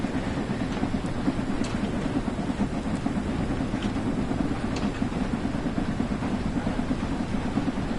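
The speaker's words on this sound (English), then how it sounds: "we got another train about to pass by" A passenger train rolls by in the Train Sim World 3 railway simulator game, a steady low rumble of wheels and engine holding at an even level for the whole stretch, with no speech over it.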